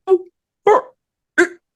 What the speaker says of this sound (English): Can you hear this dog barking?